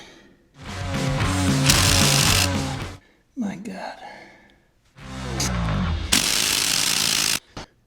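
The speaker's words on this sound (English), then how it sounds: "My old carpentry drill's not cutting it." An old carpentry power drill whirs in two long bursts, pitch wavering under load, with a gasp and a brief exclamation between them.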